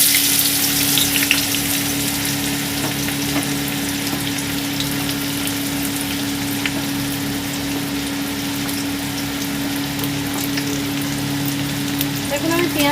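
Chopped onion frying in hot oil for a Bengali fish-roe fritter curry, a steady close sizzle and crackle with a constant low hum running beneath throughout.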